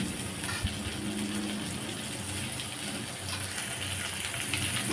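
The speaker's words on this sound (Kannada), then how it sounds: "ಇದನ್ನು ಫ್ರೈ ಮಾಡ್ಕೊಳ್ತೀನಿ." Chopped tomato frying in a pan while making a wedding-style green gram (hesaru kaalu) curry: a steady, even hiss and sizzle that holds for the whole stretch without breaks, close and moderately loud, with no talking.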